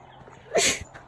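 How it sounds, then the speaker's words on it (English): A single sharp, close sneeze bursts out briefly on the Lone Star Hiking Trail in Texas, with quiet surroundings before and after. "I'm fixing to sneeze."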